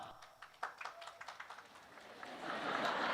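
Young men in a church congregation clap in a scattered burst of overlapping claps, building into a denser wash of applause toward the end, heard at a moderate distance in a reverberant space.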